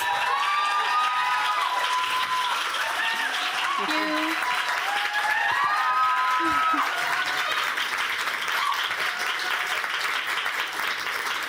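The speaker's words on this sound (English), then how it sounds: "Give her an applause." A crowd at a startup pitch demo day applauds and cheers loudly and continuously as a speaker takes the stage, a dense wash of clapping with a brief word of thanks spoken over it.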